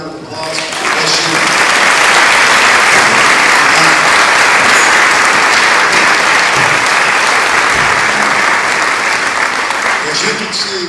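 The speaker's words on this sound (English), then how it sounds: "let's give her another round of applause" Sustained applause from a large indoor audience at a Clinton School speaking event, loud and steady for about ten seconds before tapering off near the end.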